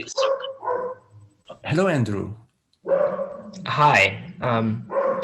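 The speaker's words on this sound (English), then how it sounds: "Sorry if you can hear the dog barking." A dog barks a few times in the background between bursts of speech, with people greeting each other in the foreground.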